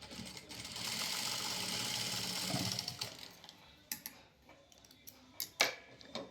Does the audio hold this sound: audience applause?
no